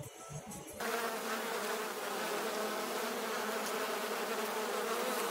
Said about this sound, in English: the bees are underneath there